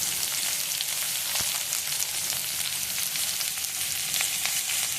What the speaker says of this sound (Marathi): आपण दोन तीन म्हणजे थोडेसे लसूणचे पाकळ्या टाकूया कांदा टाकू